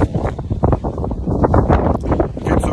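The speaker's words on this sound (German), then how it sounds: "Viel zu windig. Kann ich nicht aufnehmen." Loud, continuous wind buffeting the microphone on a beach in Calella, with low rumbling gusts throughout and no clear voices.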